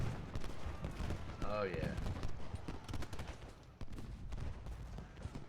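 Civil War musket volleys from Ultimate General Gettysburg crackle as distant, scattered rifle fire, with a voice speaking briefly over the battle noise.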